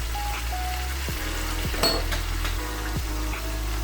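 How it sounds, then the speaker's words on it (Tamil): Chicken pieces frying in a little oil for Sri Lankan devilled chicken, a continuous close sizzle with a few faint clinks and a low steady hum underneath. "இது கொஞ்சம் ஆயிலில் நல்லா வேகட்டும்."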